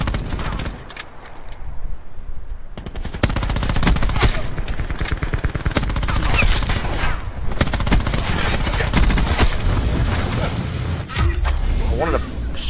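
Rapid bursts of gunfire from the Spectre gun in a hero-shooter video game, dense and repeated across the stretch, with a busy game mix and speech running underneath.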